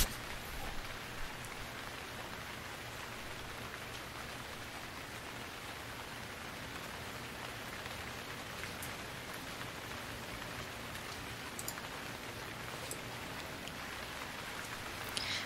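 Nighttime rain pours in the survival game Stranded Deep, an even, unbroken wash of hissing rainfall with faint droplet patter, steady and alone for the whole stretch.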